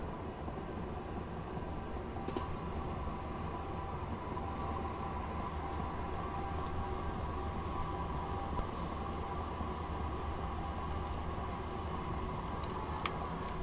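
A passenger train in Train Simulator 2018 accelerates toward a 90 mph limit, a steady faint low rumble and hum of the running train continuing evenly with occasional brief clicks.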